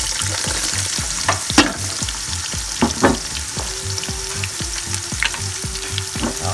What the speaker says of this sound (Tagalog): Hali-haliin na natin. Hanggang sa maluto yung luya at sibuyas.